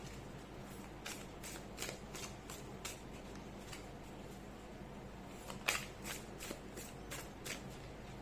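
Tarot cards shuffled by hand in a quiet room, a rapid run of crisp riffling bursts and soft flicks repeating across several seconds with no talking.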